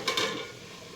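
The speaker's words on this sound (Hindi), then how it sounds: "सब्जी बन रही है अभी, आलू और परवल की भुजिया" A spoon scrapes and stirs potato and parwal bhujiya cooking in a pan on a gas stove, one or two quick metallic strokes over a soft sizzle, brief and close.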